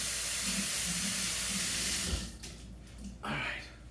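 Tap water runs steadily while vegetables for a chicken dinner are rinsed in a kitchen sink, a broad continuous hiss that stops abruptly halfway, then a brief burst of flow returns near the end.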